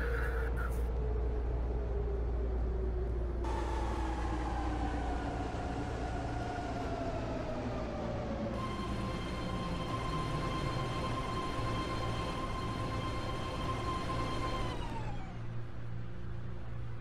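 A Bay Area Rapid Transit train on the Pittsburg/Bay Point line hums and whines steadily in Roblox, its motor tones rising and falling as it rolls through near Pleasant Hill Station, loud and continuous with no talk.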